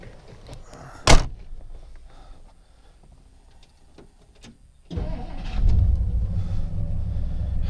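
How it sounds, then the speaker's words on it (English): A car door thuds shut on a 1958 Plymouth, followed by a few quiet seconds; then the engine cranks, catches, and settles into a steady rumbling idle nearby. "This car has always started really, really well for me. Starts right up."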